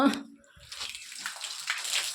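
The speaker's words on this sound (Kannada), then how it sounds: "ಈಗ ನೋಡಿ ನೀರು ಹಾಕ್ತಾ ಇದ್ದೀನಿ" A brief hiss of water being poured from a pipe for curing a house's construction, rising after a short knock at the start.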